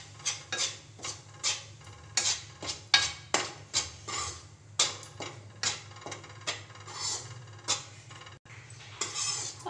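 Whole wheat flour roasting in hot ghee in a pan, stirred continuously with a utensil that scrapes and clinks against the pan in a steady, repeated rhythm, close and fairly quiet with no talking.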